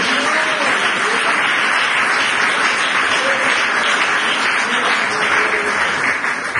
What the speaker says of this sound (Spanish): Dele fuerte ese aplauso al Señor